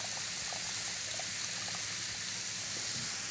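Water from a boiled cabbage head drains and trickles off in a steady, close, hissing stream that stays even throughout, with no talk.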